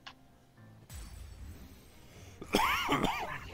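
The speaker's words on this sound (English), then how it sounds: "I'm coughing a lot tonight." A single harsh cough bursts out close by after a quiet stretch with a soft thump, rough and throaty.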